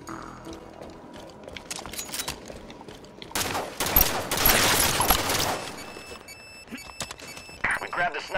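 Rapid gunfire bursts from the video game Halo 5: Guardians, with loud overlapping shots from several weapons peaking in a dense barrage midway, with electronic game effects and speech around it.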